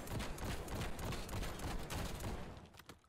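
Shotgun fitted with a rapid fire attachment firing in Black Ops 6, a continuous stream of quick, loud blasts over nearly three seconds that tapers off at the end.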